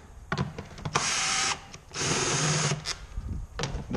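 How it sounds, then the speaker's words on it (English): A power tool whirs in short bursts while unscrewing 8 mm bolts on a Suzuki Kingquad ATV CVT transmission cover, close and loud with brief gaps between runs. "Just unscrew every one of them."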